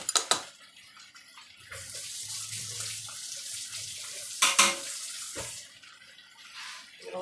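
Cooked pasta drained into a kitchen sink, water pouring and splashing steadily for several seconds with a couple of louder metallic clatters of the pot partway through, close and alone without talk.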